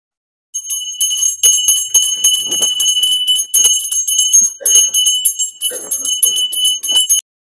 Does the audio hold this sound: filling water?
no